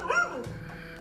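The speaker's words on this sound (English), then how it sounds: "the dog began barking non-stop at the basement" A dog in a played paranormal video barks once, sharp and close, followed by a softer yip. Faint room tone fills the gap between the two sounds.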